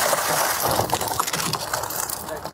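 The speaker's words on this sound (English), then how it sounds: "And breaks out the back window" A deputy breaks out the back window of a car with steel shatterballs: loud, dense crunching and crackling of glass close by for about two seconds, then a sudden drop to quiet.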